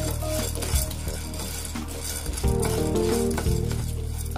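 Chana dal dry roasting in a pan for homemade idli sambar powder, with steady scraping and stirring and occasional utensil clinks against the metal, close and continuous.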